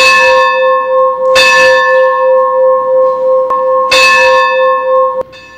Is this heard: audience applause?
no